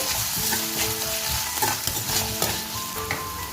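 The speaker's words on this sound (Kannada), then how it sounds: "ಒಂದು ಪ್ಯಾನ್ನ ಕಾಯಿಸ್ಕೊಂಡು ಅದಕ್ಕೆ ಎಣ್ಣೆ ಹಾಕ್ಕೊಂಡು ಸ್ಲೈಸ್ ಮಾಡಿರೋ ಈರುಳ್ಳಿ ಹಾಕ್ಕೊಳ್ತಾ ಇದ್ದೀನಿ." Sliced onions fry in hot oil in a pan, a steady loud sizzle with intermittent stirring scrapes, close and continuous without talk.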